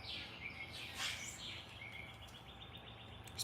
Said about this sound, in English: There's birds fighting.